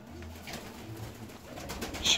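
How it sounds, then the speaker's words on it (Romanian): Pigeons gather to bathe in water and coo, a soft low burbling that runs steadily under faint splashing, closing with a brighter chirp. "toți porumbeii la baie"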